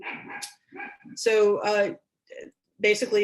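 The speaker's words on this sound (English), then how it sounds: "that's my dog barking" A pet dog barks a few loud, sharp times at home, close to the microphone, while a person keeps speaking over it.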